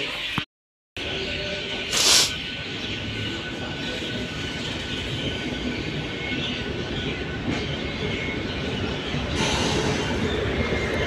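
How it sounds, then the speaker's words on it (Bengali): A passenger MEMU train pulls out of Raniganj station on the Durgapur to Asansol line, a steady rumble of rolling wheels and carriage noise heard from aboard, with a brief louder burst early on and no talking. "আমাদের ট্রেন এখন রানীগঞ্জ ছেড়ে নেক্সট স্টেশন কালীপাহাড়ি"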